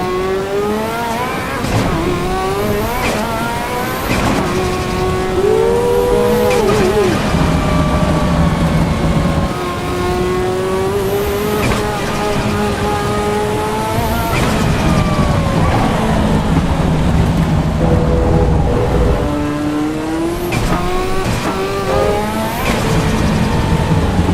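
A Formula 1 car in a racing game at the Nürburgring, engine held at part throttle: a loud, continuous high-pitched drone whose pitch rises and falls with repeated short shifts and surges, alone with no talk.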